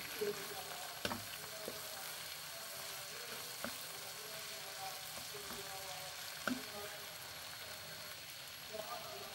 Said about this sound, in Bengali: মাংস আর হচ্ছে সসেসগুলো একটু ফ্রাই মতন করে ফেলতেছি তেলের মধ্যে আগে